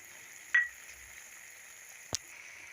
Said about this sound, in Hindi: मैं इसमें 3 टेबल स्पून के लगभग मलाई डाल रही हूँ, और उसे भी 3 से 4 मिनट इस मसाले के साथ भून लूँगी।